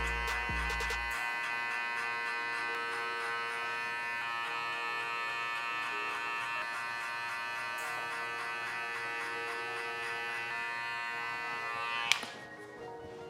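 Electric hair clippers fitted with a number 1 guard, lever fully open, buzz steadily and close up through a skin fade haircut, a continuous even drone with a brief click near the end.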